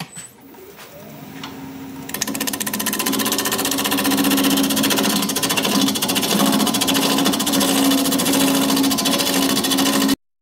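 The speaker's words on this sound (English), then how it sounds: "We're going to be turning at about 900 RPM." A wood lathe spins a blank at about 900 RPM, winding up and then holding a loud, steady droning hum with a rapid rattling buzz, alone and up close.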